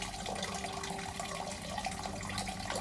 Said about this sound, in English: Sounds like the shower is playing up.